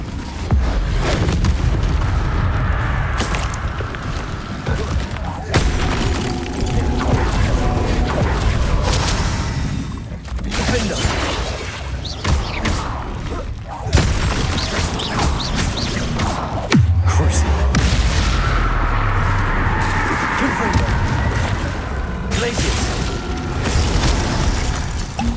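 Repeated fiery spell blasts in Hogwarts Legacy combat, loud booming bursts layered over dense game music and other spell effects, sustained throughout with several heavy impacts.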